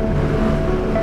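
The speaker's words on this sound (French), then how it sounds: "On va refaire de la visière parce que j'entends le vent" Wind rushing past a helmet visor on a moving Royal Enfield motorcycle, a loud, steady broadband roar with no breaks and no voices.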